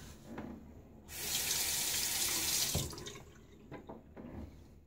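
Bathroom tap water running into a sink for a rinse after a shave with a Gillette razor: a quiet start, then a loud steady rush of water for a couple of seconds that stops, leaving faint drips and small splashes.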